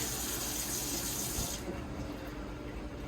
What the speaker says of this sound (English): just wet the potatoes